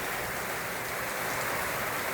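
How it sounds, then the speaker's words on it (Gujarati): Rain drops falling on metal roof sheets in Vadod, Jasdan, during an early-evening monsoon shower with a moderate wind, a soft, continuous patter-hiss that is even and fairly quiet, with no talking. "આ છે પતરાના પતરા, એટલે વરસાદના છાંટાનો અવાજ પણ તમને લોકોને આવતો હશે"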